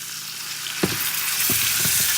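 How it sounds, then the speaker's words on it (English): Smoked sausage and garlic fry in a pan with a constant close sizzle, broken by a few stirring scrapes and clatters. "We're gonna cook that off. And we're also gonna add some more garlic."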